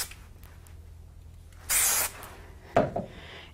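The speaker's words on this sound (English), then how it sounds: "so I'm just going to give this a quick spray." A quick spray of adhesive onto a white die-cut card shadow piece, a single steady hiss of about a third of a second, close and clear, followed by a brief rustle of paper handling.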